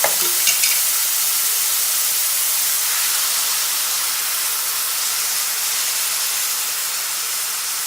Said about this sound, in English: Now we're going to dump our meat right on this electric skillet.